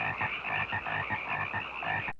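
Frogs croak at night outdoors in a film scene, a rapid, rhythmic chorus of raspy pulses repeating about four times a second, fairly close and steady, with no talking.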